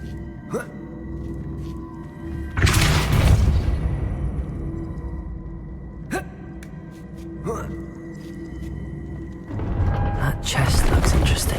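A Depulso spell is cast in Hogwarts Legacy, a bursting whoosh with a booming rush of force. Several such blasts sound, mixed with thuds and mechanical clunks, while a voice is heard at times.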